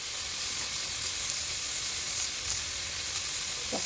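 Onions and lentils sizzling in hot oil in a pan, a steady, close frying hiss with faint crackle, no talking.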